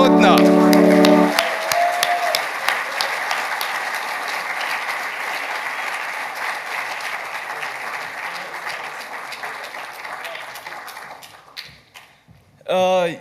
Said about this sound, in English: A big applause for Adrian Kuttner.